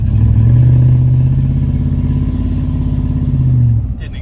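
A 1963 Chrysler 300J V8 pulls hard through a corner with a deep, loud, steady engine roar heard up close, easing off at the end; no talking.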